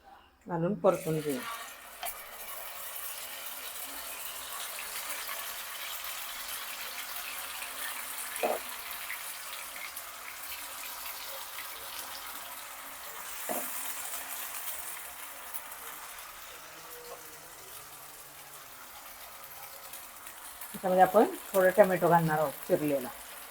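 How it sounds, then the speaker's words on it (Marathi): Raw ground masala paste for a river shingada fish curry sizzles quietly in a pan, with a steady low hiss and occasional scrapes of a spoon, while a voice speaks at the start and near the end. "आता आपण हे परतून घ्यायचं आहे"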